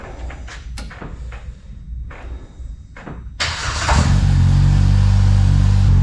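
A car engine turned over and started after a few soft clicks and rustles, catching into a loud, steady idle rumble close by.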